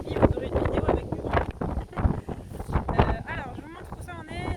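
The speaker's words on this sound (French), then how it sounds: "désolé, il y a du vent, mais en ce moment il y a du vent tous les jours" Wind gusts outdoors beside a small green pond and buffet the microphone with loud rumbling bursts while a person talks over it throughout.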